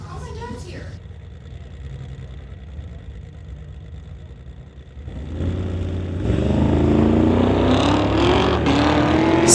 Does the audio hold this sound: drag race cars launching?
yes